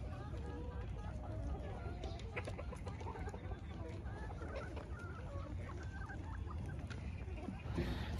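A flock of egg-laying hens clucking in a rural farmyard, a steady, fairly quiet mix of overlapping clucks with people talking in the background.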